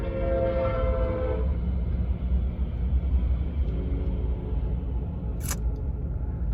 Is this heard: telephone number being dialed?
no